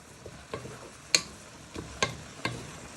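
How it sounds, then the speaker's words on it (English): Peppers, onion, garlic and prawns for a Cajun pasta are stirred in a pan, a quiet sizzle punctuated by several crisp utensil taps and scrapes spaced unevenly, close but fairly soft, no voices. "And what you want to do is you want to give that a good stir in."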